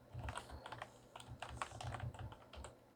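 Quiet, close keyboard typing comes in quick irregular bursts of soft key clicks as a web address is entered, with no voices.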